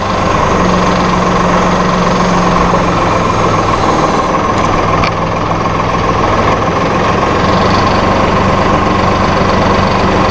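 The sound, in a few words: Massey Ferguson RK702 rotary rake rotor running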